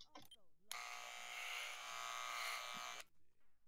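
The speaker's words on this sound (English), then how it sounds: "all he does is use the shaver and he can magically make you have an afro." In a barber shop in the GTA San Andreas video game, an electric shaver buzzes steadily for about two and a half seconds. Brief bits of speech come just before and after the buzz.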